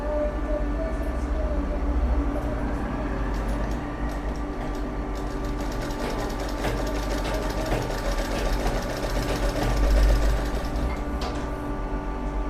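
Sewing machine stitching cloth, a continuous dense mechanical rattle and hum running throughout, close and steady with slight swells in loudness, no pauses.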